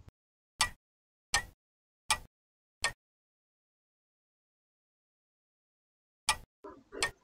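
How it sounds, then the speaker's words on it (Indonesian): A clock ticks in four sharp, evenly spaced clicks, goes quiet for a few seconds, then gives one more click followed by brief faint noise, all fairly soft and close with no speech. "Suara jam, betul sekali."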